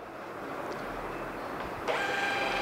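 A Retsol RTP82U three-inch thermal printer with an auto cutter prints a test page, giving a steady mechanical whir that steps up in loudness partway through, close and without speech.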